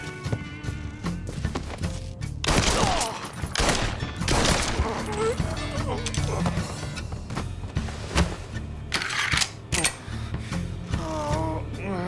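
Gunfire in the video game Mafia III: loud bursts of shots and fusillades mixed with thuds and creaks, heard close amid shouting voices and game effects.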